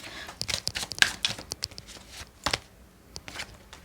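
Tarot cards are drawn and handled close by, a run of quick soft flicks, slaps and shuffling rustles spaced irregularly over a quiet background.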